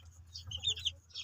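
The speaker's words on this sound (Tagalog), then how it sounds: "ito yung kulungan na aking mga sisiw" Chicks in a pen under a house give a brief cluster of soft, high peeping chirps over a low steady hum, close and faint.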